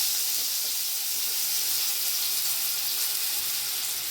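Pieces of potato go into a little hot oil with black cumin, giving a steady close sizzle and hiss that holds level for the whole few seconds with no talk.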